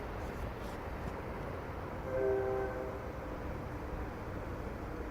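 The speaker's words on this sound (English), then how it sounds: "the sound of the train going by" A distant CN freight train rumbles past steadily, with a faint horn-like tone briefly rising midway over the low continuous roar.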